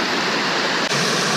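Big Branch Falls in Virginia roars in a dense, steady rush of broadband noise, loud and close throughout.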